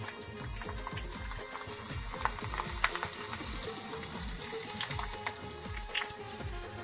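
Garlic sizzling in a pan while clams are being cooked, a dense, steady crackle and hiss with sharp spitting pops throughout, close and fairly loud, no talk.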